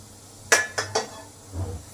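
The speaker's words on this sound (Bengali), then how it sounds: "এবার স্টিমারের ঢাকা খুলে" Metal lid of an idli steamer lifted off, giving three quick clinking knocks of metal on metal close by, followed by a soft dull thud.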